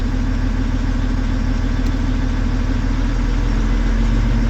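A CAT 980M wheel loader's diesel engine idles during an ignition test, a loud, close, continuous low throb with a steady pulsing rhythm and a faint whine above it, unbroken and with no voices.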